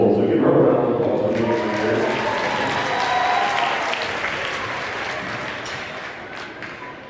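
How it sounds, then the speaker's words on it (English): An audience at a junior high band Christmas concert applauds the junior high principal, a full burst of clapping from a crowd that starts strong and slowly tapers off, with a voice talking over it near the start. "So give her a round of applause."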